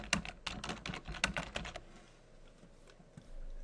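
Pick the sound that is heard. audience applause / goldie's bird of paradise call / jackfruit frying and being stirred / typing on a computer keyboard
typing on a computer keyboard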